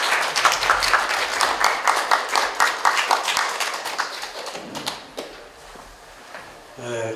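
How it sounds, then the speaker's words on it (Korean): An audience at an art forum lecture in Korea bursts into warm applause for an art critic taking the stage, with lively rhythmic clapping that swells, then thins out and fades to scattered claps before a voice begins. "박수 부탁드리겠습니다"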